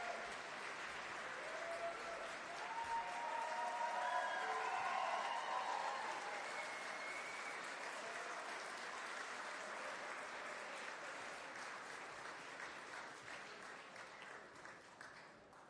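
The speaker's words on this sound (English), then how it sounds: "Please, friends, another round of applause for our exceptionally talented musical guests" Audience applause at the Golden Joystick Awards, a broad wash of clapping from a large crowd that swells early and then slowly fades, heard at a distance without speech.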